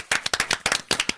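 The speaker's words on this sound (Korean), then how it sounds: "박수 한번 쳐." A few people clap their hands close by in quick, crisp, sharp claps that come in short uneven bursts, loud and with no talking.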